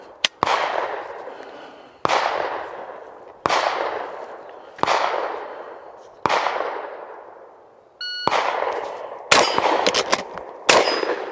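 Shotgun blasts during multigun training with a J. Kenny lifter for quick reloading: eight loud, sharp reports spaced about a second apart, each ringing off with a long decaying tail, the last few coming faster.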